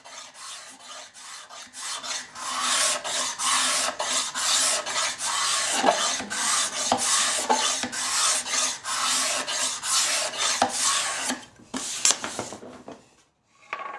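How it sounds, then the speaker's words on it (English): Steel card scraper leveling a wood inlay flush with a workpiece: close, rhythmic rasping strokes, about one per second, each a dry scratchy scrape across the wood, ending with a few lighter touches. "or my favorite, a card scraper."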